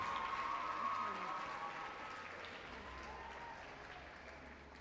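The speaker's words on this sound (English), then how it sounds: "A round of applause for him," Crowd applause at a national cross country championships prize-giving for the high school boys' trophy winners, a steady sustained wash of clapping that slowly fades over several seconds with faint voices underneath.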